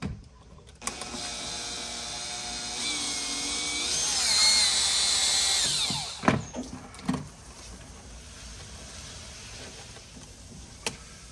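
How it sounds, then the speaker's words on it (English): A power drill whirs continuously for several seconds as it backs screws out of an old sprinkler controller, rising briefly in pitch before stopping. Then come a few clanks and knocks as the loosened unit is handled. "all I gotta do is remove the old unit by removing these two screws"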